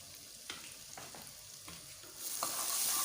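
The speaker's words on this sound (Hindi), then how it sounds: "अब इसको अच्छे से मिक्स कर लेंगे।" A spoon stirs chilli powder, salt, turmeric and cumin together in a cooking pan, giving soft scraping strokes roughly every half second over a faint sizzle that grows a little louder and brighter near the end, with no talking.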